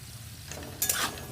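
Potato and onion being stirred as they fry in a pan: a short scrape and sizzle of the spatula rising over a steady low frying hiss, close and fairly quiet.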